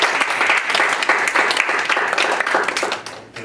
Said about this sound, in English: we just have to give the professor a round of applause